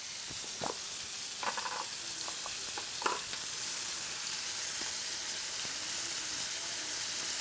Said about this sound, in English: Now we're going to add a little bit of butter.